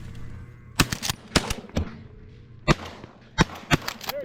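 Shotgun blasts during a pigeon hunt, several sharp loud reports in irregular groups, some in quick pairs, ringing out over a quiet field.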